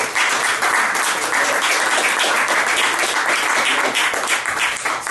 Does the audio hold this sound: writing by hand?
no